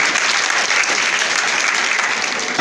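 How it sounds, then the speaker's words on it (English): An audience at a free JAMB intensive training programme gives a round of applause for the coordinator, dense continuous clapping from a crowd that stays even throughout. "Another big round of applause for the coordinator"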